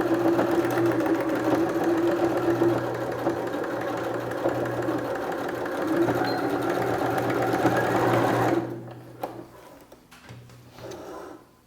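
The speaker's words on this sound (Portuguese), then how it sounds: "Vou fazer a mesma costura aqui do outro lado." A sewing machine runs steadily, stitching a seam along fabric for a small zippered pouch, a close, loud mechanical whir for about eight seconds before stopping, followed by a few light handling clicks.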